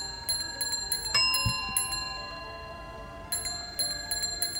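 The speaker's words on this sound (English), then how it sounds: "And now here's a bicycle bell." A bicycle bell rings in quick bright dings, a cluster of strikes with a louder ring in between, then a second burst of rapid rings after a short pause, clear and close over faint background hiss.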